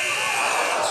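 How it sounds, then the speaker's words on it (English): A basketball end-of-half buzzer sounds at a girls' high school playoff game, one loud sustained electronic blare that fills the entire moment with a steady, harsh tone, with crowd noise faintly beneath. "it is a last-second buzzer by Johnson, and it is no good, and that will do it for this first half"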